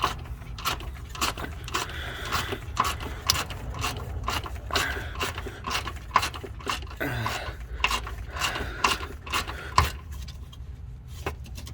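Mechanic's ratchet tightening a part on a Cadillac Escalade engine after an engine replacement, heard as a steady run of rapid clicking strokes across the whole stretch, close by with a low background hum and no talk.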